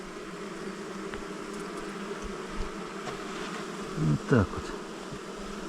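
Honey bees buzz steadily at an open hive during a beekeeper's inspection after two warm days, with a brief louder, closer burst of buzzing near the end and a short spoken remark.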